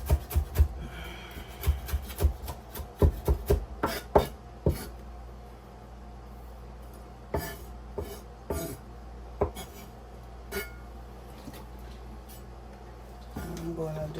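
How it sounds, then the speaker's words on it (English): A knife roughly chopping a hot pepper, seeds left in, on a kitchen cutting board: quick bursts of sharp taps early, then sparser single knocks, with faint kitchen clatter between. "I'm gonna roughly chop this."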